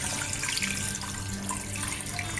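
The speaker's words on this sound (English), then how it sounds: "Fill with cold water enough to cover all the bones." Cold tap water runs steadily into a stock pot holding washed chicken bones, a continuous close splashing rush with no talking over it.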